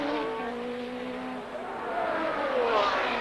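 Formula 1 cars in 1982 Belgian Grand Prix practice pass by one after another. Their high engine whines rise and fall in pitch, and faint commentary runs underneath.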